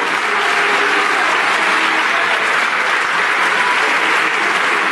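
Sustained, dense applause fills the French National Assembly chamber, a loud and steady clapping from many people that continues without a break.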